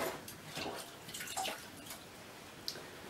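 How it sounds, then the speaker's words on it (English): Stirrups are dropped into a bucket of water during tack cleaning, giving soft splashes and drips followed by a sharp small clink, fairly quiet and close. "put them in the bucket of water"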